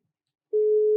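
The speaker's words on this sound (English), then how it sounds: "Oh yeah, it's ringing." A telephone line tone during a call: after half a second of silence a single steady electronic tone comes in loud and clear and holds to the end, with no voices.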